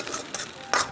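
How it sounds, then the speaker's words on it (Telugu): A metal spatula scrapes and stirs chicken frying in a pan, with soft sizzling between three short bursts of scraping, the last one loudest, close and with no talk. "గీకి వేయించాలి."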